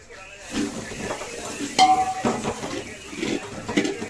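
Spiced biryani water with garam masala is stirred in a metal pot: continuous swirling and scraping with scattered clinks of the utensil on the rim, close up.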